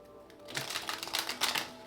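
Tarot cards being shuffled, a quick run of soft riffling flutters and light slaps that builds partway through and stays fairly faint and close, with no talking.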